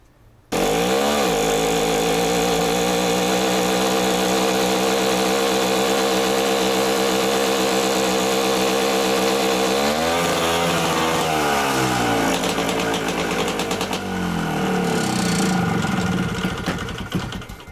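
An old Soviet T-74 tractor's diesel engine kicks in after a brief quiet start, then runs loud and steady with a rough, chugging drone that wavers in pitch for several seconds.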